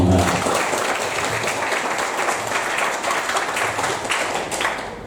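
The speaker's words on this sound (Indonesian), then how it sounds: "Tepuk tangan untuk UNS Solo dulu." Dense, sustained applause from an audience at a university faculty (FISIP UNS Solo) during a visit by high school students, a steady wash of many hands clapping close and loud for the full length.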